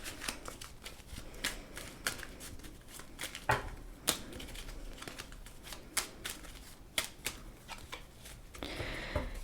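Tarot cards being shuffled by hand, a steady papery riffling and flicking with sharper snaps at intervals, close and fairly quiet, with no talk over it.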